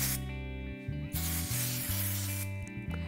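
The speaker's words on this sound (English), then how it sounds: "I'm just gonna use some dry texture spray by Kenra and just spray it all over" Kenra dry texture spray hisses onto hair in long, close aerosol bursts with brief pauses between them, under steady background music.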